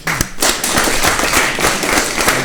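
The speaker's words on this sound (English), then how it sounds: "Clap again for my guests." An audience at a school event claps for guests, a dense burst of many hands that starts loud and keeps going without letting up.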